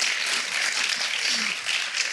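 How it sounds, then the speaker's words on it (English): Audience applause at a film interview event, a continuous, even patter of many hands clapping, moderately loud and sustained for about two seconds. "A round of applause for that one."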